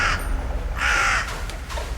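Crows caw in a witch-themed fantasy video game, a few harsh calls in short bursts over a low steady background hum, moderately close and fairly clear.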